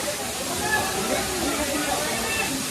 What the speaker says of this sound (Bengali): আর এটা হচ্ছে বড় বলতে এটা সবচেয়ে থেকে দূরে এই ঝর্ণাটাই, চতুর্থ নম্বর ঝর্ণা।